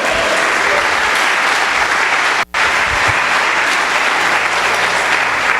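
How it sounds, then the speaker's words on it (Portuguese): Church congregation at a gospel program applauds loudly and steadily, a dense wash of clapping close by, with one abrupt silent break midway before the applause resumes. "As palmas para ele."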